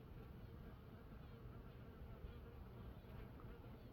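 Honeybees at a hive, with a worker bee piping or whistling and no queen present, make a dense, steady drone up close that fills the whole stretch without a break and carries no voices.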